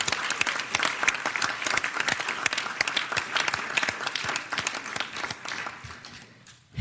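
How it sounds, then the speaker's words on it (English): Audience applause after a poetry reading in Philadelphia, dense and steady from a sizable crowd for several seconds before thinning out near the end. "Everyone, please join me in giving Michaela another round of applause"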